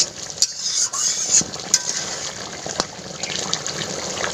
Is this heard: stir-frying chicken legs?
yes